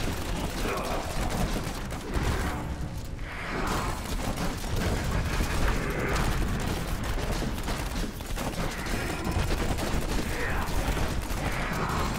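A Demon Hunter in Diablo 3 fires rockets during a Greater Rift battle, a dense continuous barrage of game explosions, mechanical clatter and impact effects with no letup.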